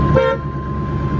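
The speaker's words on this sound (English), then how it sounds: "Horn works." Horn of a 1982 Chevrolet Corvette giving one short, loud honk heard close up, with a steady tone that cuts off quickly.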